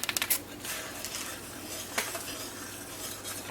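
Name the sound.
stirring boiling jam in a pot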